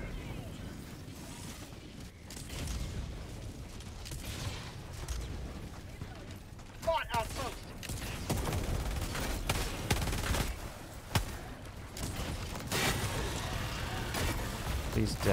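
Gunfire in Helldivers 2, bursts of rapid shots and clanking mechanical noise over a constant battle din, with someone talking over the action.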